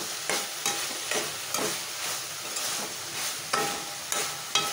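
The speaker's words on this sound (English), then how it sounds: "Stir this all well." Brinjal fry with onions and tomatoes being stirred in a pan, repeated scraping strokes of a spoon at a steady pace over a soft sizzle, close and fairly quiet with no talking.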